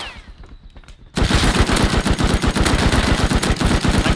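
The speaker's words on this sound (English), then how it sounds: "I'm coming under fire." Rapid bursts of automatic gunfire in the survival game Rust erupt after a quiet second, loud and close, with dense repeated shots continuing steadily to the end.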